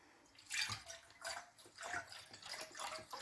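Half a litre of milk pours into a cooking pot in short splashing, gurgling bursts, close and fairly quiet, with no voices.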